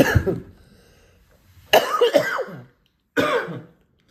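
A few harsh coughs and throat-clearing bursts, close and loud, separated by brief silences.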